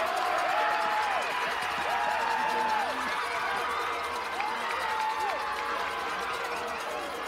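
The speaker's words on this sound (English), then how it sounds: "Bourne standing and cheering" A baseball crowd at a Cape Cod League playoff game, Bourne Braves at Hyannis Harbor Hawks, roars steadily after a go-ahead run. Dense cheering and clapping run throughout, with several rising whistles and whoops cutting through the noise.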